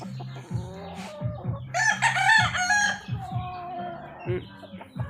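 A rooster crows loudly and close by in a backyard, one long cock-a-doodle-doo drawn out over a couple of seconds, framed by repeated short clucks and low fowl calls.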